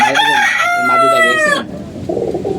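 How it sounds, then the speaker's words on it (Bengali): A rooster crows loudly and close by in a single long call, followed by softer clucking from hens. "আমাদের যে মোরগ মুরগি আটকে দিছি এদিকে"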